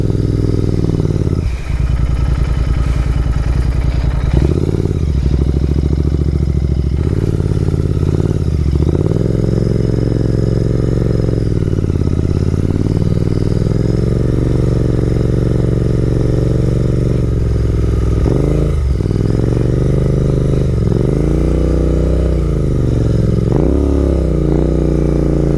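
A Royal Enfield Interceptor motorcycle rides off-road on rough terrain near Adilabad and Dandepally. Its loud, close engine drones steadily throughout, rising and falling with throttle, with occasional clattering over bumps.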